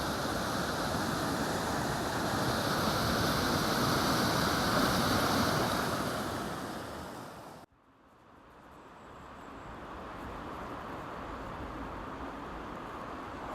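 Rushing river water at the Strid, a narrow, fast stretch of river, makes a steady broadband roar that cuts off abruptly, then returns more quietly from a different spot with no one talking.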